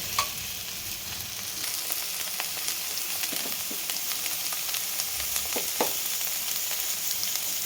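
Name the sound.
okra frying in a pan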